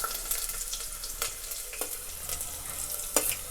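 Garlic cloves and small pieces of ginger fry in hot oil for a Punjabi paneer dish, a steady close sizzle with occasional stirring scrapes.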